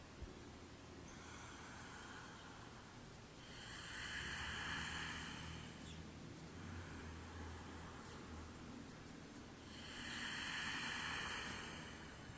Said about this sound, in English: This one is called the Oojai breath. The Oojai. So it is the ocean sounding breath.